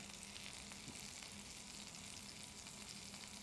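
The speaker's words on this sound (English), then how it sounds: "Get a nice hot skillet going. One patty down, another patty down." Blackened salmon burger patties sear in a hot skillet, giving a faint, steady, even sizzle with no voices over it.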